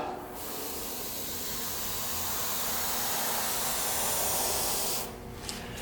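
A steady, close hiss of spray paint is applied in a rust patina onto a Ford custom truck's panels and runs for about five seconds before cutting off, with a faint click afterward.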